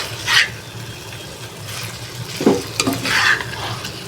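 Shrimp cooking with pumpkin leaves in a pan, a steady close sizzle with a few scrapes and stirring clinks as the food is turned, no voices over it.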